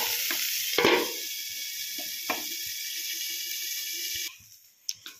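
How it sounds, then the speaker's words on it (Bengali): Broccoli frying in oil in a pan sizzles steadily and fairly loudly, with a few sharp clatters from stirring, before the sizzle suddenly drops away near the end. "ব্রকলিগুলো ভেজে তুলে নিয়েছি"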